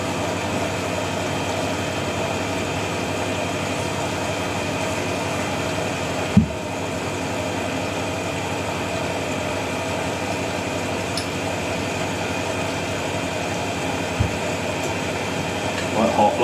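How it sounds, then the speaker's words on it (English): A Showermate water pump runs as a steady low motorized hum and drone in a home laundry setting beside a Hotpoint 9530 washing machine, continuous and moderately loud, with a couple of faint knocks over it. "Sometimes the shower mate pump that I've got, that's what you hear in the background."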